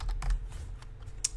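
Quick keystrokes on a computer keyboard as a command is entered in a terminal, a handful of light clicks in an irregular burst, close and fairly quiet over a low hum, with no voice.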